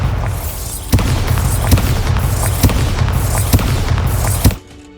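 Bombarda spell explosions in the Hogwarts Legacy video game, a series of sharp booming blasts about once a second over a dense, rumbling background, ending abruptly.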